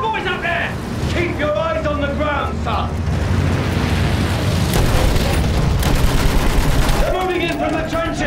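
Sustained machine gun fire rattles through a World War I battle in Battlefield 1, a dense continuous barrage with booming explosions mixed in, heard under shouted voices and battlefield chaos.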